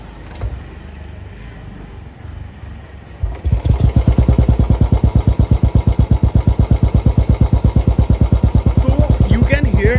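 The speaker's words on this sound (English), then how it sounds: "let's start the motorcycle and hear how it sounds" A Royal Enfield Bullet 350 with a GMA peashooter exhaust starts up after a few seconds of quiet background noise, then idles close and loud with a deep, even, rapid thumping beat.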